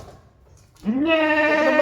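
A Kathiawadi goat at a livestock market lets out one loud, close, wavering bleat. It follows a moment of low, murmuring market background.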